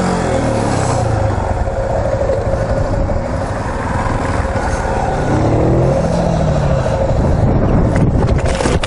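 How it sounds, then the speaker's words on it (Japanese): A Yamaha Serow motorcycle engine revs continuously up close during an accelerator turn on a slippery surface, a steady, loud buzzing drone with shifting pitch sweeps and no talking. "やった、アクセルターン。"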